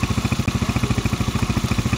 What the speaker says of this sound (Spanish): no debería de girar la llanta al presionarle el clutch